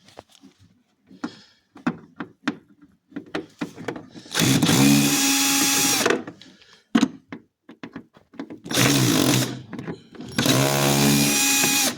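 A power drill backs screws out of a refrigerator ice maker bucket in two loud whirring bursts of about two and three seconds, separated by softer clicks, taps and handling knocks.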